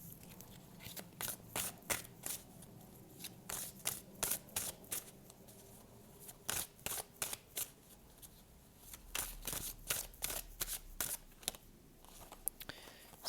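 Oracle cards being shuffled by hand in repeated quick bursts of crisp riffling and flicking, close and fairly quiet, with short pauses between rounds and no talk.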